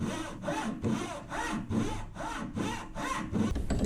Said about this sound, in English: This time I used my Dazuki saw, which is much easier to cut straight.